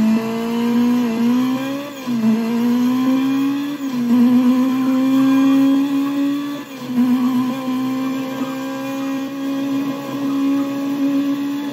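Engine of a coupe car in the racing game Burnout Legends, a loud continuous drone that rises and falls in pitch through repeated gear shifts and revs across the whole stretch, with no talking.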